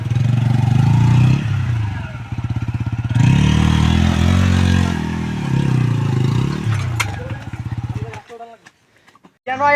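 A motorcycle engine revs hard and close on a trip to Baramura waterfall in Tripura, pulsing loudly in long bursts before cutting out near the end, with people talking and shouting over it.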